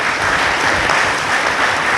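An audience bursts into steady, dense applause for graduates at a Fraternité FM ceremony, the clapping loud and continuous throughout with no pauses.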